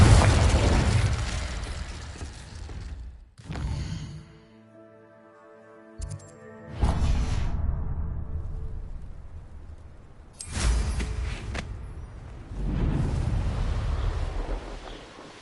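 Incendio and Confringo spell blasts in the video game Hogwarts Legacy: several loud, roaring fiery explosions come in bursts, separated by brief lulls that carry a tonal hum, with a final sustained rumbling blast.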